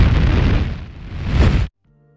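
A voice blowing into a microphone capsule to imitate rocket flight, producing a loud, rough, windy roar that surges, dips briefly and swells again before stopping abruptly after under two seconds.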